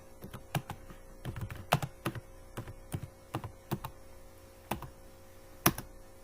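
Scattered, distinct keystrokes tap out C++ code on a computer keyboard, close and fairly quiet against a hushed room, in irregular bursts with pauses between.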